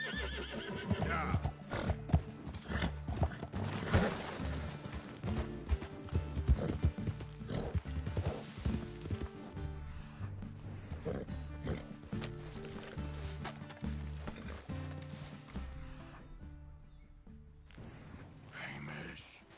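A horse in the Red Dead Redemption video game whinnies and clip-clops at a steady gallop, loud and close, with a voice talking over it at times.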